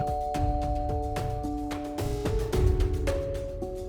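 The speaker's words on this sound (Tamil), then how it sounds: "அவ வீட்டு காலிங் பெல்ல தட்டுச்சு" An electronic doorbell plays a short melodic chime tune, a sequence of clear ringing notes one after another, close and alone with no voices.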